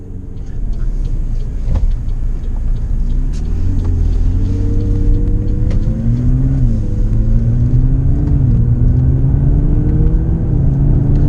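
A McLaren 570GT supercar cruising in full automatic normal mode during a hurricane, heard from inside the cabin as a steady low engine drone that rises and falls gently with gear changes, loud and continuous with faint rattles and taps.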